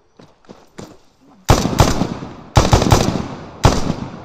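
Gunfire in the video game Overthrow: after some quiet shuffling and soft sounds, three loud bursts of rapid automatic fire crack out close by, each a cluster of shots that trails off before the next.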